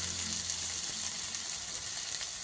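Vegetables for manchurian fry in a pan with a steady, bright sizzle and crackle, close and continuous, with no voices.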